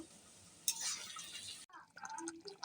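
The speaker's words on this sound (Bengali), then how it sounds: "তো নেড়ে চেড়ে পুনরায় ঢাকনা দিয়ে ঢেকে দিচ্ছি।" Beef and satkora curry stirred in a cooking pot, a soft scrape followed by a metal clink as the lid is set back on, quiet and close.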